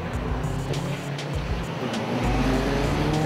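A Nissan 350Z running on a race track, engine droning steadily under load with tyre noise, a close continuous roar that shifts pitch slightly as the car pulls through.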